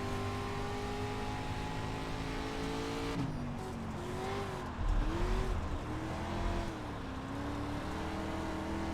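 Dirt street stock race car in iRacing at Dirt USA Speedway, engine droning steadily then dipping and revving back up as the driver gets on the gas, loud and continuous with no voices.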